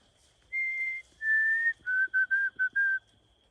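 Someone whistles a clear, pure birdlike tune imitating a white-throated sparrow's song: two long held notes, then a quick series of shorter repeated notes.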